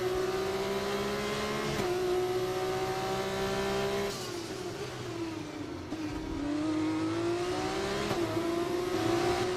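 Race car engines in the F1 24 video game drone loudly and steadily throughout, the pitch rising and falling as the car shifts and accelerates, with a brief dip in the middle before climbing again.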